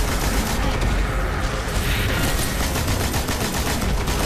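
A heavy weapon fires continuously in the video game Destiny during the Array mission of the Xbox One beta, a dense, loud, unbroken barrage of shots with no pauses.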